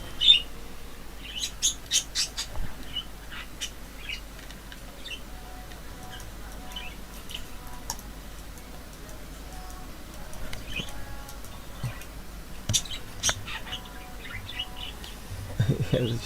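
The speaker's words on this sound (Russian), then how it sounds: "у меня попугай опять распелся" A pet parrot sings indoors in repeated bursts of chirps, whistles and squawks, some loud and close, others faint, scattered over a low steady background hum with a brief rumble near the end.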